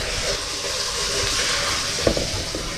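Water pours steadily into a tank on a trailer with a constant hissing, rushing wash, fairly close, with a couple of faint knocks partway through and no speech.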